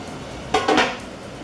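A metal lid comes off a canner with a brief double clatter and scrape, close and fairly loud, then fades back into steady room noise.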